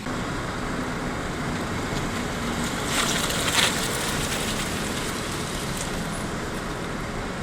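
A traffic jam on a detour street during heating-main repairs on Pryvokzalna Street, a steady roar of idling and slowly moving cars and buses with a brief louder swell midway.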